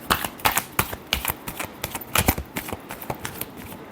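Tarot cards are riffled and shuffled by hand in a steady run of crisp, papery flicks and snaps over about four seconds, close and fairly loud, with no voice over them.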